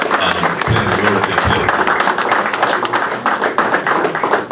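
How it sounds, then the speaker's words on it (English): Audience at a Bermuda football awards ceremony claps, a dense run of hand claps sustained for several seconds, fairly close and loud, with some voices mixed in. "I'd like to ask everybody here to give a round of applause to the media"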